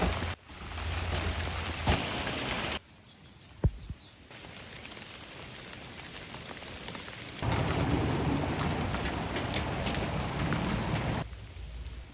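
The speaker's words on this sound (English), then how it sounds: "It started raining so much harder." Heavy rain pours steadily, swelling louder at times, with a sharp crack of thunder partway through; no voices.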